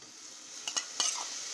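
Spices including cumin fry in a pot with a steady close sizzle, broken midway by a few quick scraping stir strokes of a spoon against the metal. No one speaks.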